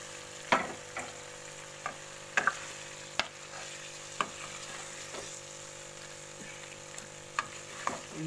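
Spiced food is stirred in a pan to coat it with masala: a soft sizzle with sharp, irregular spoon scrapes and knocks against the pot.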